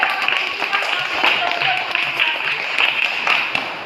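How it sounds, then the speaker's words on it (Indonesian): Students in an Indonesian classroom clap together in a steady, fairly close patter of hand claps lasting a few seconds, with faint voices mixed in. "tepuk tangan buat kita semua"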